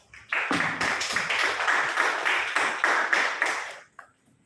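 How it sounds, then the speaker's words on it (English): Audience applause for a speaker at a Gavel club speech event, a steady wash of many hands clapping that swells and holds for about three and a half seconds, then fades out abruptly. "Please give him a round of applause."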